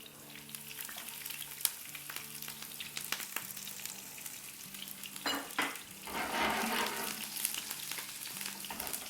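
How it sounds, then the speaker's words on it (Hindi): Mustard seeds crackle and sizzle in hot oil in a pan, a steady frying hiss with scattered sharp pops that swells louder toward the end, alone without talk. "रायदाने को थोड़ा सा क्रैकल करेंगे।"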